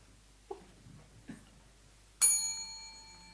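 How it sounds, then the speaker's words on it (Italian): A single bright doorbell-style hand bell rings out on a theatre stage with a sharp strike and a lingering metallic tone, after two soft knocks or footsteps. "Un campanello."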